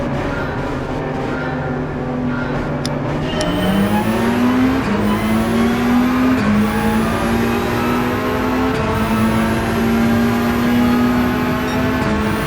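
Several Porsche GT3-class race cars roar in a racing video game at the Nürburgring, their engines climbing steadily through the gears with repeated upshifts, loud and continuous with no talk.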